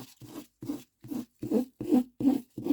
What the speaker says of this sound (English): I'm just scratching into it really with my nail.